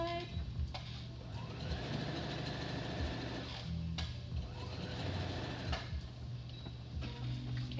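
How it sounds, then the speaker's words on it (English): A sewing machine stay stitches along a fabric edge at a quarter-inch seam allowance, its needle whirring in fast rhythmic runs with brief pauses between bursts, close and moderately loud. "Stay stitch on the other side."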